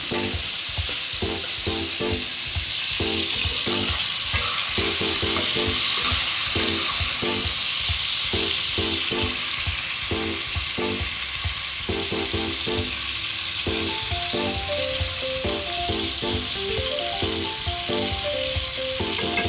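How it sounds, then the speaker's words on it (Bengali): Prawns coated in salt and turmeric fry in hot oil in a pan, giving a steady, close sizzle that runs the whole time under rhythmic background music. "এখন প্যানে তেল গরম করে নিয়েছি, এখন এর মধ্যে দিয়ে ভেজে নেব"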